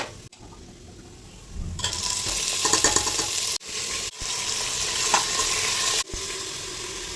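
Onions drop into hot oil in a home kitchen and hiss into a loud, steady sizzle, broken by sharp clatters as the pan is stirred and handled.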